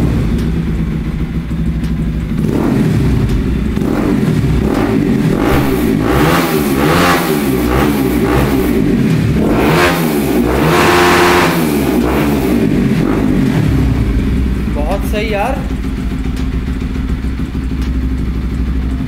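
A Bajaj Pulsar NS200 motorcycle engine runs close and loud after a carburettor slide change. It starts at idle, gives several rising and falling revs, then settles back to a steady idle.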